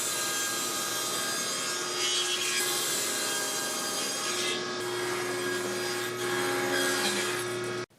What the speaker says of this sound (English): For the handle, I cut a piece of sumac to length.